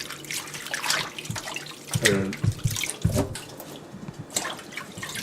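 Watercress rinsed under a running kitchen tap, water splashing and pattering unevenly with wet handling sounds and a few sharper splashes, close and moderately quiet.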